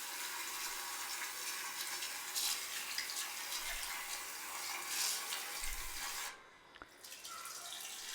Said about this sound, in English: take it out and you immediately want to run it under cool water